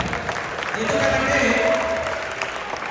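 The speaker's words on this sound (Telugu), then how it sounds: "శ్రీమణి గారు టీచర్ని వాళ్ళని ఆశీర్వదించండి, గట్టిగా చప్పట్లు కొట్టండి" Audience at a Telugu children's festival event in America clapping for teachers, a sustained wash of applause from a crowd that swells in the middle and tapers off.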